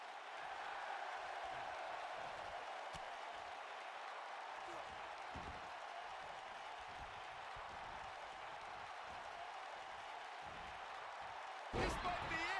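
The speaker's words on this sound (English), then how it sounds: "This capacity crowd starting to sense the end is near" Capacity arena crowd in the WWE 2K19 wrestling video game roars steadily near a match's end, a dense, continuous wash of cheering throughout with a sharp burst of noise near the finish.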